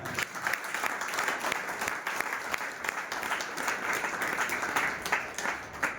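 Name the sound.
audience applause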